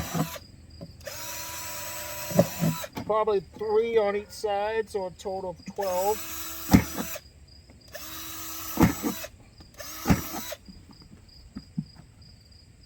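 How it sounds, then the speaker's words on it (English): A power drill bores holes into a plastic kitty litter container in several short whining bursts separated by pauses, while a person talks in between the runs. "I'm going to drill a few holes on the side"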